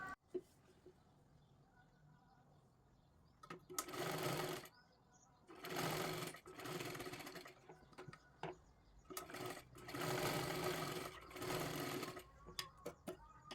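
A sewing machine stitches a tuck into a blouse in several bursts of rapid whirring, each lasting a second or two, separated by pauses with quiet handling sounds.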